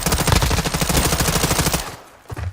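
Automatic gunfire in Modern Warfare II, a loud, rapid continuous burst lasting almost two seconds that cuts off abruptly, followed by a short low thump.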